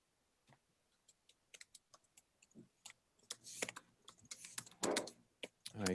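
Quick, irregular clicks of typing on a computer keyboard, starting faint and sparse, then growing louder and denser in bursts toward the end, with no talk over it.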